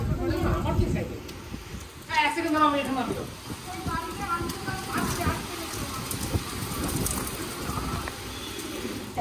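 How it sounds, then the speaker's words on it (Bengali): Heavy rain pours down during a storm, a constant hissing wash with patters on surfaces, heard close while people talk over it. "বাবরে প্রচন্ড বৃষ্টি পড়ছে, তার মধ্যে শুরু হয়ে গেছে ঝড়।"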